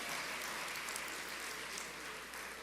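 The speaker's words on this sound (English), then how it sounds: "let's give them all one more round of applause" Sustained applause from the audience at a national honours and investiture ceremony, an even, dense patter of many hands heard from a distance at low volume.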